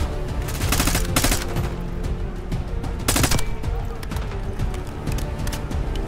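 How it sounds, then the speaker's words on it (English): Gunfire in Call of Duty Black Ops 6 campaign: rapid automatic bursts and sharp shots crack close by, several distinct volleys over a busy battlefield din with a voice talking underneath. "Who's shooting at me?"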